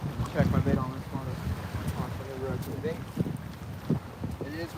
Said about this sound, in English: It is really windy too,